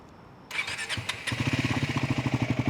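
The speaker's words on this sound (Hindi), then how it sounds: "सबसे पहले क्या है, स्क्रैम्बलर 400X को स्टार्ट करते हैं" A Triumph Scrambler 400X motorcycle engine cranks and catches, then settles into a steady, throbbing idle with a rapid rhythmic exhaust pulse, close and clear.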